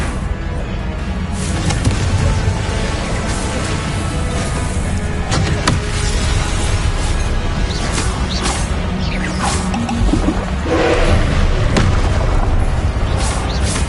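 Confringo blasting spells explode repeatedly in Hogwarts Legacy combat, with loud booms and whooshing bursts over a dense, constant game soundscape.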